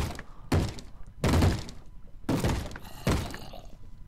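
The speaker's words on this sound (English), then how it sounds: "Where the hell is all this banging coming from?" Heavy thuds of a door being banged on in a video game, four loud separate bursts spaced roughly a second apart, each with a booming low end and some rattle, with no voices.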